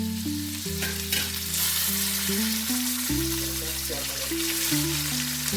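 Chopped onion and diced potatoes fry in a pan with a steady, close sizzling hiss throughout, over low sustained tones that shift in pitch underneath.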